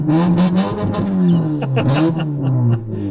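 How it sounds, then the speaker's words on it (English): A car passes close by at loud volume, its engine note sweeping down in pitch as it goes past, filling about three seconds before fading out near the end. "So that was a lot of car."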